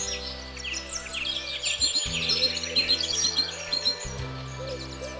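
Great tits chirp in a garden with nest boxes, repeated bright calls and tweets close by, over a soft background of music.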